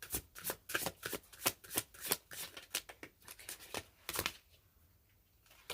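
A deck of tarot-style reading cards is shuffled by hand close up, a quick series of crisp riffling bursts and taps that stop for a quiet moment near the end, with no talking.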